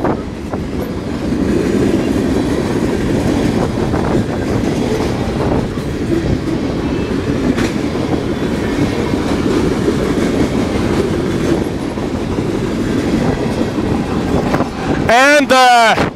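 A train carrying hazardous material rumbles past nearby, steady rolling noise with faint clicks, ending in a loud rising horn-like squeal; a voice speaks over it.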